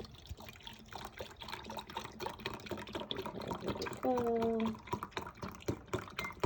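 Water splashes and trickles from a tap into a cooking pot of oxtails with beef broth base, a close, steady pour lasting under a second amid quieter kitchen clatter, with a brief voice at the start.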